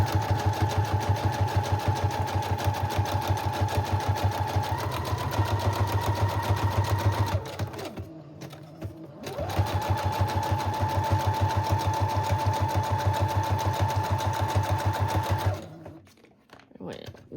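A sewing machine stitches the cover of a shaped junk journal, a fast, steady mechanical chatter that runs loud and close, pauses briefly around the middle, then resumes before stopping near the end.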